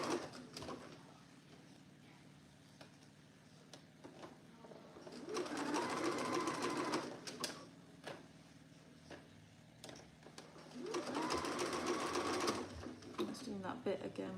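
A domestic sewing machine stitches fabric fed through the gap in the presser foot, two close bursts of rapid mechanical whirring a few seconds each, separated by quieter handling, with someone talking softly between them.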